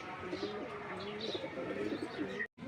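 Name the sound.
pigeons cooing as they return home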